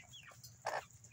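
Chickens pecking at a big zucchini give a couple of soft, faint clucks, with one slightly louder call near the end against a quiet backdrop.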